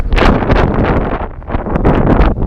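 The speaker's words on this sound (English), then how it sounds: "The weather's nice, but the wind is freezing. It's strong." Strong, freezing wind gusting hard across an outdoor campsite at Haugastøl in Norway, a loud buffeting roar battering the microphone in continuous surges with no speech.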